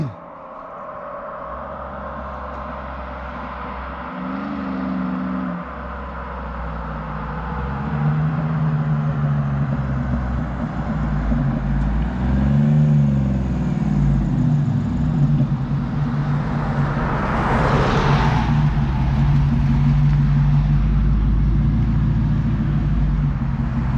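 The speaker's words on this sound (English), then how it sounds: "The little truck makes a lot of noise." A short Chevy Silverado pickup with a Gen 3 6.0 LS engine swapped in place of its 5.3, idling and then revving up into a steady, loud rumbling drone with rising and falling engine tones, heard close.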